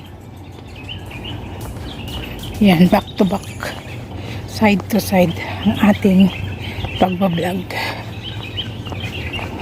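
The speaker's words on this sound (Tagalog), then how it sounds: "Yung huni ng ibon, naririnig nyo?" Birds singing outdoors in a grassy park near rock formations, several bright chirping bursts at moderate distance over steady outdoor background, with a person talking at times.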